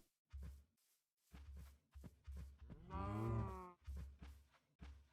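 Minecraft cows mooing repeatedly, a run of short low grunting moos and one long drawn-out bellow, close and clear with no talk.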